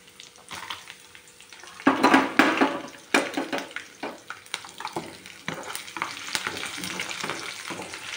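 Curry leaves and garlic frying in a tempering for a ripe red chilli pickle, sizzling steadily while a spoon stirs and scrapes the pan in irregular bursts, close and fairly loud, with no talking.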